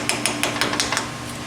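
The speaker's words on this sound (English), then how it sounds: "So when we go in, let's just lightly tap it with a screwdriver." A screwdriver handle lightly taps an end cap on a 4R100 transmission, producing about six quick, evenly spaced light knocks up close, then a fading tail.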